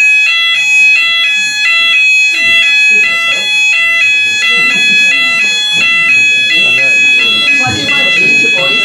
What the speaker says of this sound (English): It's probably a false alarm from the hospital above.